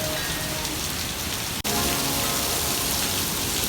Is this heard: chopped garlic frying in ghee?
no